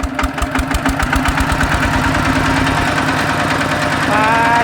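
A Siam Kubota tractor engine runs close up with a steady, rapid knocking chug and a metallic rattle, getting slightly louder and rougher near the end as it revs up.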